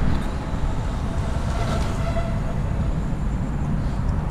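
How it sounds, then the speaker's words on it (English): Docklands Light Railway train in Stratford, London, heard as a dense, steady rumbling roar of wheels and motion with faint squeals, loud and continuous throughout. "So DLR stands for Docklands Light Railway."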